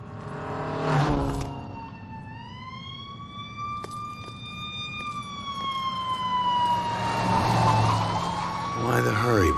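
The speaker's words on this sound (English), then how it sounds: "I think I hear sirens" Police sirens wail and rise as they approach in the Murdered: Soul Suspect video game, a steady wavering tone growing louder over a low rumble, with a voice speaking in the clip.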